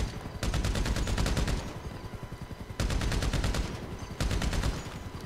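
Bursts of rapid automatic gunfire ring out in GTA Online as players shoot at a helicopter's tail rotor, three long loud volleys separated by brief pauses.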